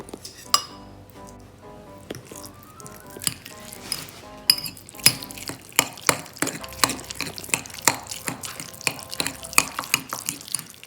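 Eggplant with oyster sauce is stirred in a pan, a long run of metal utensil clinks and scrapes against cookware in an irregular rhythm, close and fairly loud, with no talking.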